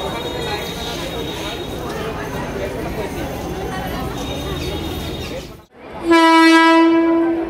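Loud rumbling and clatter of a local train pulling into a station, then a long, loud horn blast near the end.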